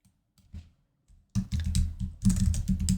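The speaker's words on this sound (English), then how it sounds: "And for my text, I'm going to type in" Someone types text on a computer keyboard: a few scattered taps, a short pause, then two quick bursts of rapid, close keystrokes.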